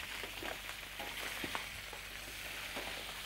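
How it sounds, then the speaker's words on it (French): Chopped onions sizzling steadily in a hot pan for paella, a continuous close crackle with brief louder pops and stirring scrapes, no voices. "On va ajouter nos oignons et faire colorer"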